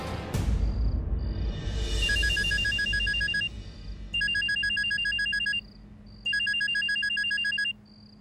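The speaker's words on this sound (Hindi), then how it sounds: "वो पतिदेव का फोन आ रहा है" Mobile phone ringing with an incoming call, playing a bright, repeating electronic ringtone in bursts with short gaps, fairly close and loud over a low room hum, with no voices.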